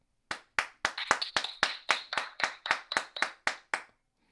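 Clapping at a morning show, about a dozen sharp, evenly spaced claps from what sounds like a single pair of hands, close and crisp, with no talking.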